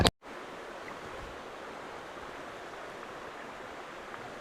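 A forest stream flows with a steady, even rush of water that fills the clip after a short knock at the very start.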